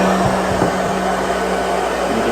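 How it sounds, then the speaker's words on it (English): A hair dryer on its low setting blows steadily at close range, a constant whooshing roar with a low motor hum, loud and uninterrupted. "got the wife's hair dryer, and we're just gonna put her on low"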